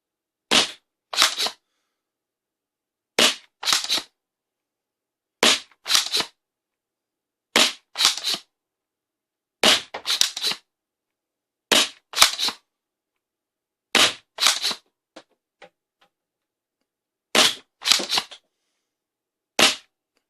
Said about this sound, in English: First, let's fire like 10 round with this short spring